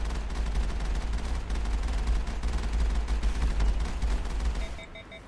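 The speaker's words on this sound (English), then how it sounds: "Ah, the Mako's cannons." The Mako vehicle's cannons in the video game Mass Effect fire in a rapid, heavy barrage with booming low rumbles, then cut off, leaving a few short electronic tones.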